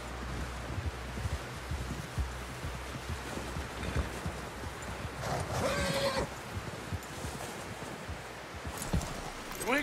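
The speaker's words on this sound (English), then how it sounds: "Someone help John down off this horse" In Red Dead Redemption 2, a horse lets out a neigh over steady rustling outdoor ambience, with a few soft hoof clops nearby.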